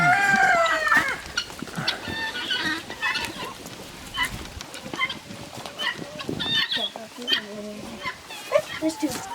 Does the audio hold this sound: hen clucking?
yes